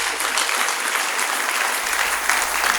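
Church congregation applauding the word of God during a service, a steady full round of clapping from many hands throughout, fairly close and sustained.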